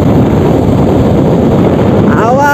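Heavy wind buffets the microphone of a rider seated behind the driver on a fast ride, a loud, roaring rush that fills the short stretch without pause.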